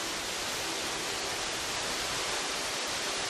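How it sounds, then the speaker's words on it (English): Steady, broadband rush of a waterfall in the video game Grow Up, a dense continuous hiss holding at even level throughout with no voices. "we have waterfall noises"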